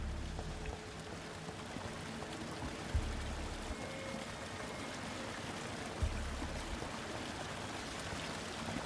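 Water flowing steadily in the video game Vampyr, a continuous rushing stream at even level with a low hum and two faint thuds.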